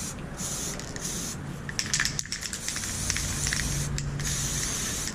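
Aerosol spray paint hissing in steady bursts outdoors on a 3D printed demon dice tower miniature, with a light breeze around, the can rattled between sprays and no talking.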